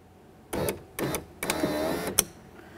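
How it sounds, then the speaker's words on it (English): The power window regulator motor in the front door of a 1994-1999 Honda Accord lowers the glass in several short whirring runs with brief gaps between them, close and moderately loud, ending with a sharp click. "we'll continue on to powering down the window regulator"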